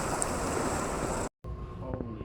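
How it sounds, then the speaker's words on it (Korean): Huge ocean swell waves crash against sea cliffs in a dense, continuous roar of surf and wind, broken by one abrupt cut before a slightly thinner wash of breaking water resumes. "지금 보시는 이 장면들이 바로 너울이라는 거대하고 멋지면서 웅장한 파도의 진면목입니다."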